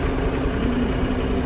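A tractor engine idles loudly and steadily, a constant low rumbling drone with no breaks, heard outdoors while the machine is readied to lift an RV in its bucket.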